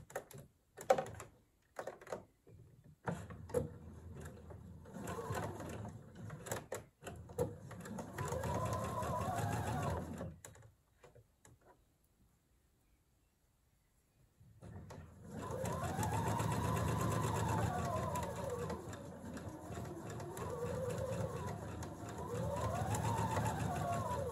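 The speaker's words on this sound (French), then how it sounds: "Je vais commencer par piquer un côté à 1 cm du bord." A sewing machine stitches a seam 1 cm from the edge of a blouse, running in bursts with brief pauses and a stretch of near silence, then resuming in steady whirring runs that slow and speed up.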